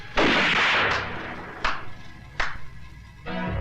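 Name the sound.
gunshots fired into the air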